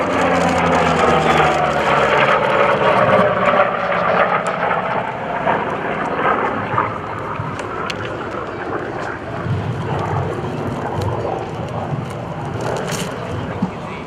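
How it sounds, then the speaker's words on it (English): F4U Corsair warbird making a photo pass at the 2011 Blue Angels Homecoming Airshow, a loud radial-engine roar sweeping past with a falling pitch, then fading into wind noise and a broad airshow rumble. "Here's the photo pass from the Corsair."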